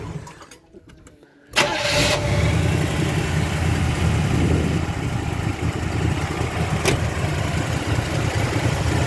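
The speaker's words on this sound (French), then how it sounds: "Alors, le bruit du moteur." A 1979 Chevrolet Caprice Classic 5.7-litre V8 cranks and catches after a moment of quiet, then settles into a steady, rumbling idle that continues close by.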